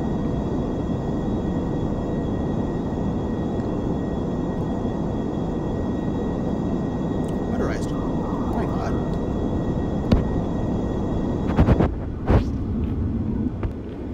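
Airliner coming in to land in the Aerofly FS Global flight simulator game, a steady loud engine and wind roar holding throughout with a few sharp clicks and thumps near the end.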